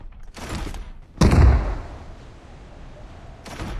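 A gunshot from a PUBG Mobile match cracks loudly up close, preceded by a shorter burst and followed by a decaying tail, then another shot begins at the end.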